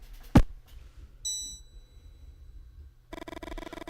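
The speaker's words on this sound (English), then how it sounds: "Suddenly, the bell rings and you feel an invisible force trying to drag you into the present." A bell rings in a sharp struck ding, followed by a short ringing tone and then a bright repeated pulsing chime, clear against near silence.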